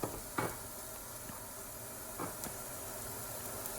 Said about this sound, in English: On medium heat. You want to add your onions and saute them.